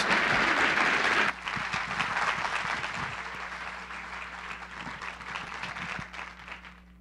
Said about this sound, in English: let's give all of the panelists another big round of applause.